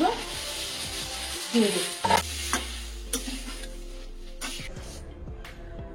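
Chicken pieces sizzle in a hot wok while being stirred, a steady frying hiss broken by a few scraping clatters of a spoon against the pan, with a voice speaking briefly over it.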